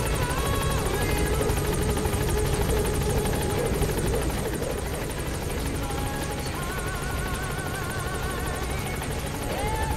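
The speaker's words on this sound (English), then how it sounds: "I can't hear them with the music and the helicopter blades whirling" Helicopter rotor blades whirl steadily in the Metal Gear Solid V: The Phantom Pain video game, a loud, continuous thrumming drone layered under game music with no break in intensity.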